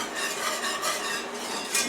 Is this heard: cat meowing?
no